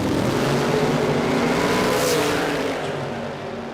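A drag racing car launches off the trans brake at Willowbank Raceway, a loud, close engine roar that holds strong and then fades slightly as it pulls away, with no talking.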